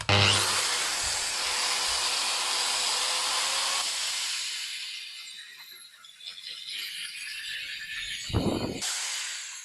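A repaired Metabo WE 14-125 angle grinder runs with a high, rough whine that winds down and restarts, close by with no talking.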